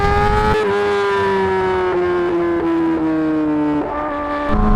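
A straight-piped 2020 Yamaha R6 motorcycle exhaust holds a loud, sustained high-pitched whine close by, its pitch easing down slowly with brief shifts and blips, and no talking.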